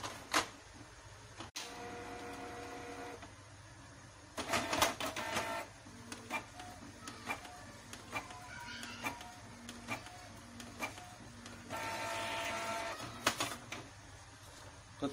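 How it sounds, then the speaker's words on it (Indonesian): An inkjet printer with cartridges runs a nozzle check, its carriage whirring and clicking in repeated passes with mechanical ticks and feed sounds, fairly quiet and close, no talking. "Kita tunggu sampai proses print selesai dan print nozzle check."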